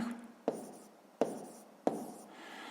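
A pen writes numbers for a sixth-grade math exercise on paper, with three sharp taps where each stroke begins, each trailing into a soft scratching glide. Close and quiet, with no talk.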